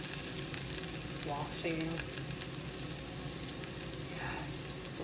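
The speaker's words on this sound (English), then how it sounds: "But they're still sizzling." Peppers sizzle and fry steadily in a pan, a dense crackling hiss that fills the whole clip at a quiet level, with a brief spoken word over it.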